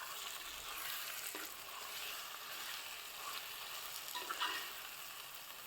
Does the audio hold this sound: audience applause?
no